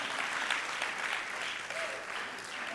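A church congregation applauding and cheering at a sermon, a dense burst of clapping with raised voices filling the room.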